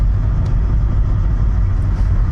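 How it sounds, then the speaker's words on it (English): A small car on the road in Zakynthos, Greece, passes mopeds. It makes a loud, steady low engine rumble heard from inside, with constant road noise and no talking. "I'm driving past mostly mopeds now"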